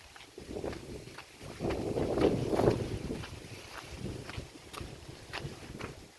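Strong wind blowing over a river, heard as gusty rumbling buffeting on the microphone that swells and fades, with faint scattered knocks and small splashing or movement sounds nearby.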